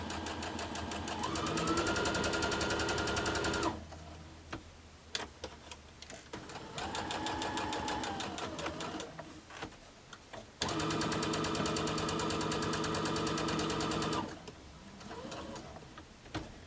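A sewing machine stitches homemade makeup wipes, a steady close mechanical whirr in long runs broken by pauses, with a faint squeak as the fabric turns a corner.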